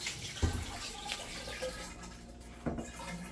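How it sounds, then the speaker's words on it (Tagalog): Leftover water splashing out as a removed toilet is tipped during a washroom renovation, a wet pour with two louder gushes and a steady low rumble throughout. "Tinatapon niya yung katubigan."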